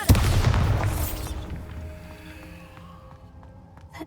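A Bombarda spell blast from the video game Hogwarts Legacy: a loud, booming burst at the very start that rolls off over about a second into a quiet, low ambient hum with faint scattered ticks.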